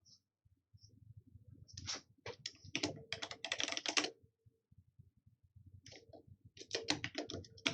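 Bursts of rapid typing on a computer keyboard, with clustered key clicks separated by short pauses, fairly close and clear with no talk over them.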